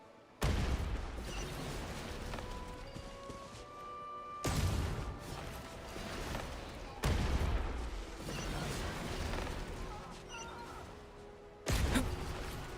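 Deep booming detonations in Genshin Impact, four heavy blasts several seconds apart, each followed by a rumbling tail over continuous game sound.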